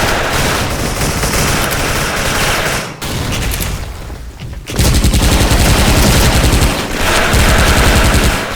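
Loud, rapid automatic video game gunfire from an OWL UZI submachine gun rattles in long continuous bursts, with a brief pause midway before the shooting resumes just as intensely.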